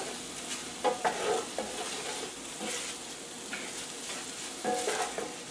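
Spices stirred in a hot pan while making a steak pie: a soft, constant sizzle with a few brisk scraping strokes of a utensil scattered through, close and with no voices.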